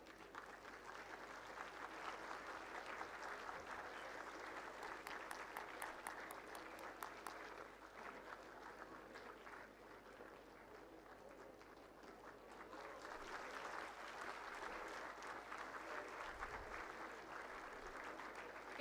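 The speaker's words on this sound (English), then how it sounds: "welcome the Honorable Minister with a big round of applause" Audience applause welcoming a minister at a food processing startup event, a continuous, fairly distant patter of many hands that swells slightly near the end.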